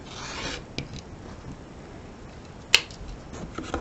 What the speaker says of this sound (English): the next step on this, which is to trim off this extra bit of fabric